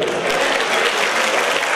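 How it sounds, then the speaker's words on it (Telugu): Steady, dense applause from an audience at a youth foundation's birthday celebration, loud and continuous from start to finish with no other sound standing out. "ఒకసారి గట్టిగా చప్పట్లు"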